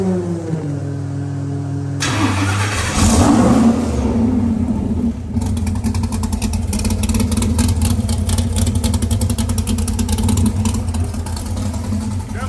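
A 427 cubic inch LSX V8 with a 4.5L Whipple supercharger cranks and catches at about two seconds on first start, roars up with a loud rev, then settles into a deep, lumpy rumble with a steady rapid ticking on top.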